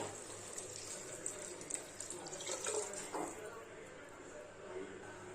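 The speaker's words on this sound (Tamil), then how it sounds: "2 கப் அரிசிக்கு 3 கப் தண்ணி சேர்த்துக்கிறேன்." Water is poured into rice in a pot for kuska, a quiet trickling and splashing that runs under a person talking.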